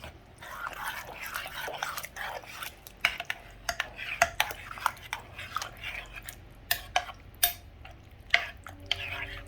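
Spaghetti sauce being stirred in a pot for homemade spaghetti, with a utensil scraping and clinking against the pot in a steady run of sharp knocks, close and fairly quiet, and no talking.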